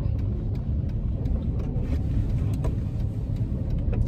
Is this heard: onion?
no